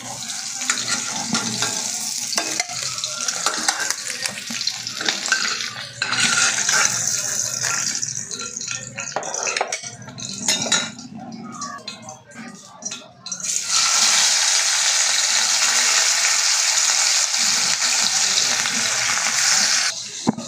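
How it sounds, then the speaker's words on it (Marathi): Whole fish frying in hot oil in a pan, a steady close sizzle running through most of the stretch with a few clattering handling noises and a brief lull before the frying roar returns strongly. "पूर्ण फिश आपल्याला अशीच सगळी तळून घ्यायची आहे"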